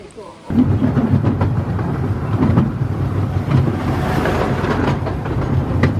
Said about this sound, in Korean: 그래서 원래 걸어 내려가려고 그랬는데 그냥 꼬마기차 다시 타겠습니다